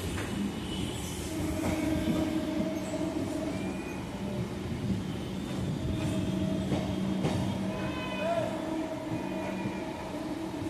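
A Majerhat–Barasat local train runs under Howrah Bridge in Kolkata with a steady rolling rumble and wheel clatter, close and continuous, with faint squeals and background voices.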